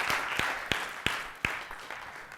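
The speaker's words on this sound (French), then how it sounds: "Une bonne main d'applaudissements" Sparse applause following a talk on beaver management and culvert protection: a handful of distinct claps spaced out over a light, fading patter, fairly quiet in the room.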